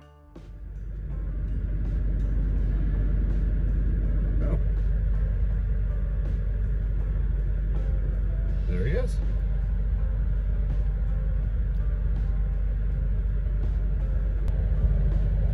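An old $1200 bus, just off a 300-mile drive, idles with a deep, steady engine rumble that builds within the first two seconds and holds, with people talking over it.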